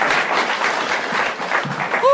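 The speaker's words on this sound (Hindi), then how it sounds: "एक बार जोरदार तालियां राजीव के लिए" A comedy-show audience breaks into loud, dense applause for a contestant in an escape-room episode, a steady wash of clapping lasting about two seconds.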